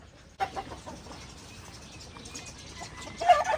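Santa Rosa White Claret chickens clucking close by, a few soft clucks that rise to a louder burst of calls at the end, with no speech.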